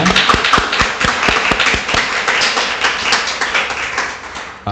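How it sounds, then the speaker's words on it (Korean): A church congregation bursts into applause, beginning with a few distinct claps that quickly blend into dense, loud, continuous clapping throughout, ending abruptly. "축하로 박수하겠습니다"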